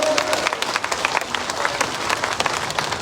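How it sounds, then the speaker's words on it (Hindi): Crowd at a Hindi-language election rally clapping together, dense overlapping claps with sharp individual hits, steady and fairly loud for about three seconds. "दोनों हाथ ऊपर उठाकर तालियां बजाकर आशीर्वाद दीजिए"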